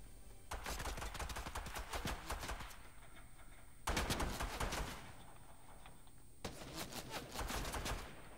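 Sniper and automatic gunfire in a shooter video game, three dense bursts of rapid sharp cracks separated by brief lulls, loud and close throughout.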